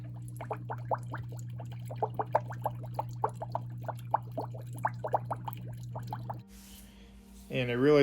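An Aquaneat sponge filter in a shallow aquarium tank releases large bubbles in a rapid, loud gurgling burble over a steady hum, which stops abruptly before a voice starts speaking.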